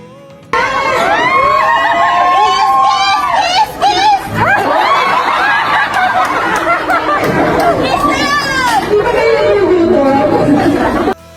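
Fans at a couple's second-anniversary celebration shout and cheer, mixing loud chatter, squeals and laughter in a dense, continuous crowd roar close by.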